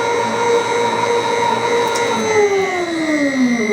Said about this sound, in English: Alright, so we just ran the dyno test.